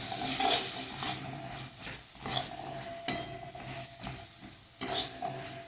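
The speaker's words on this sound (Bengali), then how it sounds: "তারপর নুন হলুদ দিয়ে মটরশুঁটি অ্যাড করে দিয়েছি।" Peas frying in a wok with chopped onion, salt and turmeric, a steady sizzle broken by several sharp scrapes and clinks of a stirring spoon against the pan, close and fairly loud with no talk.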